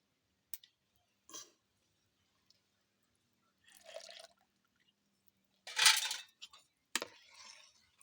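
First coconut milk added to wheat payasam in a home kitchen, heard as a few brief quiet spoon clinks and liquid pours separated by silence, close and faint.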